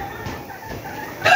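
A chicken clucks softly and sparsely near the microphone, then a louder, brighter call bursts out at the very end, with no talk.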